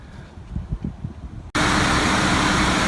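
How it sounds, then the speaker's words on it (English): A Nissan 240sx S14 with a KA24DE four-cylinder idles with low rhythmic pulses before a loud, steady broadband roar suddenly takes over, as the AC blower comes on, and continues to the end. "now I'm just running it with the AC on, checking it for any leaks"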